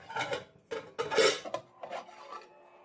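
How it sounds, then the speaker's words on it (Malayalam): A metal lid clanks and scrapes onto a pot of chicken kurma in a few short, close clatters over about two seconds, then quiet. "ഞാൻ ഇതൊന്ന് മൂടി വെച്ച് കൊടുക്കാണ്"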